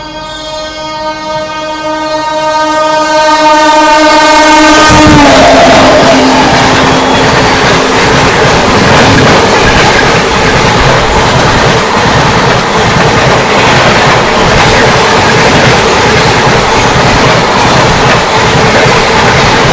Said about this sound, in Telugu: మెయిన్ లైన్లోకి ఇప్పుడు తమిళనాడు ఎక్స్ప్రెస్ రానుంది.